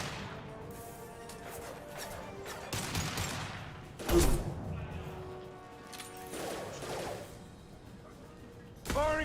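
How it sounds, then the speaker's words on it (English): Concussive shot gunfire and impacts from the Mass Effect 2 video game, with several sharp blasts and crashes scattered across the clip amid game effects, one heavy hit in the middle and another at the end. "Firing concussive shot."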